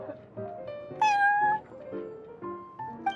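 A cat mews several times in short tonal calls inside the Cat's Tail tavern in the Genshin Impact card game, bright meows rising above soft background music, one longer call in the middle, fairly close.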